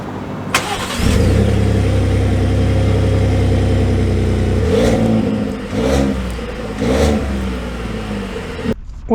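Engine of a 2023 Ford F-150 single cab work truck idling with a low rumble, then revving in several rising surges as it pulls away, heard from inside the cab.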